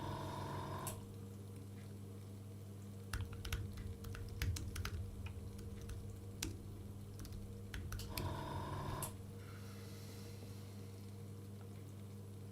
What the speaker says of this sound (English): I'm typing into ChatGPT.